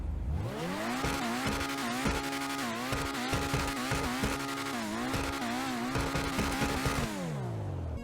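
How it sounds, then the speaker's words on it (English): Engine of the Benefactor Krieger supercar in GTA Online, revving loud and close with rising and falling pitch sweeps, then winding up hard and dropping away at the end, with no voices. "The Krieger, it definitely sounds like a supercar."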